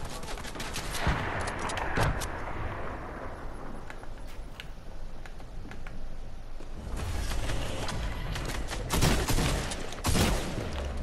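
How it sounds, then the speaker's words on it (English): Gunfire in a video game shootout: dense rapid bursts and sustained automatic fire crackle steadily, swelling in several heavy clusters through the clip. "I'm shooting at them."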